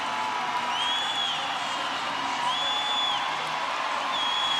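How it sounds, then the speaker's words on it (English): A crowd at an ISL swimming meet in Budapest cheers and whoops steadily through a race finish, a loud, continuous roar with shrill whistles rising above it. "Listen to the crowd urging him home."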